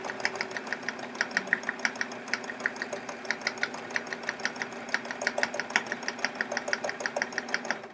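A sewing machine runs at a fast, even pace while stitching a stipple quilting meander, producing a steady stream of rapid mechanical ticks over a low motor hum, moderately close and without talk.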